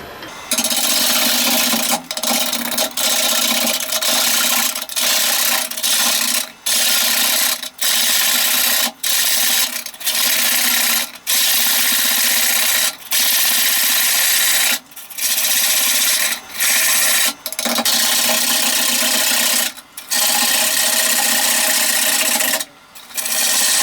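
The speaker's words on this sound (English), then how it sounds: "So I would say a push cut with the gouge open until we get this more" A woodturning gouge makes a push cut on a spinning wooden bowl, a loud continuous scraping rasp broken by short pauses as the tool lifts off and returns.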